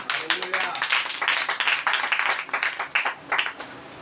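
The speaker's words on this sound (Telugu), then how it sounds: "గట్టిగా చప్పట్లు కొట్టాడు." Worshippers at a Telugu Christian sermon clap loudly in quick, uneven bursts close by for several seconds, with short gaps between the rounds.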